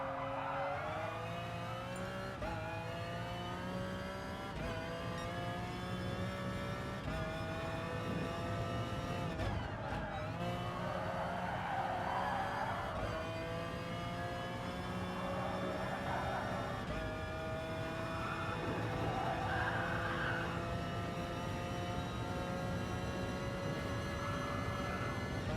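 Race car engine in the GT Sport driving game, revving high and steady with rising and falling pitch as the car lifts off, comes back on the power and shifts through gears, continuous and prominent with no talk.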